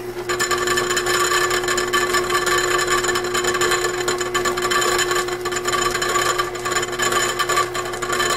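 A running lathe gives off a steady, loud mechanical whine and rattle from its gear train, with a constant hum and dense grinding texture throughout and no speech.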